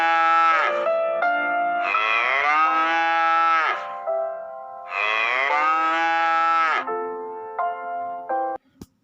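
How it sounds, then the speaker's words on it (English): Cow mooing, two long, loud, drawn-out lows close by with a drop in pitch at the end of each, separated by a short pause, followed by a few brief faint clicks. "Now let's learn the another sound, that is sound made by a cow."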